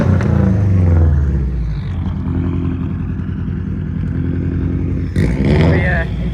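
Recently boosted big-turbo Honda Accord sleeper running on 91 pump gas, heard from inside during a night ride as the engine pulls with a loud droning rumble and rising tone, with talking over it.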